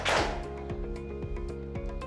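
A class claps out a patterned classroom routine: sharp, evenly spaced handclaps in a steady rhythm, close and distinct, over a soft background hum.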